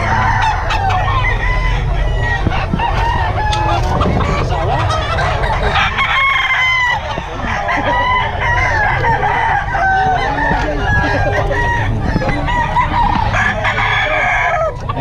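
Roosters and hens at a poultry farm in Bocaue, Bulacan, crow and cluck loudly and close, with overlapping crows repeating throughout over a dense backdrop of clucking and some faint talk.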